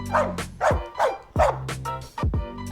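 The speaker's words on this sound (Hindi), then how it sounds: "क्या हुआ बे? भौंक काहे रहा है?" A dog barks about five times in an uneven rhythm, each bark loud and close with a short whiny tail, in a horror story setting.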